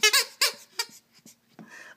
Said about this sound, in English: The first one that we're going to take a look at is called the Hol-ee Squeakin' Treat Ball. It squeaks.